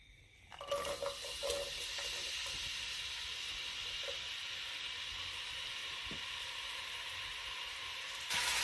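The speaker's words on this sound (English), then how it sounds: "we will allow it stir fry for like 2 seconds" Onions sizzle in hot vegetable oil in a stew pot, a steady close, loud frying hiss that starts abruptly and holds evenly throughout, with a brief crackle at the end.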